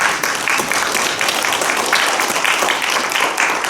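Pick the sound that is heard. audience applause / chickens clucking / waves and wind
audience applause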